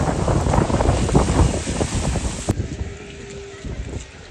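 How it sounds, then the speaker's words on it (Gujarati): Loud, gusty wind with snowfall buffeting the microphone with heavy low rumble, easing somewhat after a sharp click midway. "એકદમ પુષ્કળ પવન છે, પુષ્કળ."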